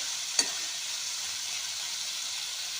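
Spice paste sizzling in oil in a wok, releasing its oil, a steady soft hiss throughout with a single sharp tap early on.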